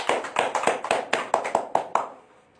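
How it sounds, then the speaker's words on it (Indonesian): A small round of applause at a motivational talk, about a dozen distinct claps in a loose rhythm that quickly thin out and stop, with no voices over them. "Tepuk tangan untuk Salim Group."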